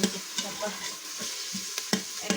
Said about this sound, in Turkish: Soğanları bu şekilde biraz soteleyeceğiz.